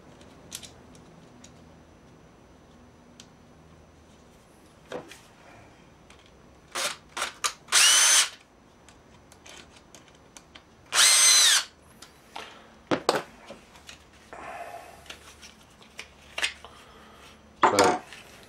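A power drill drives a couple of screws into a Kydex drop bracket for a knife sheath, giving loud, brief bursts of whirring at irregular intervals with quiet handling clatter between them.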